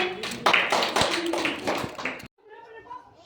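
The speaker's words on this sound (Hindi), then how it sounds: "ताली बजाइए।" Children clapping their hands in a classroom, a quick burst of scattered claps mixed with voices, then fading to quiet chatter.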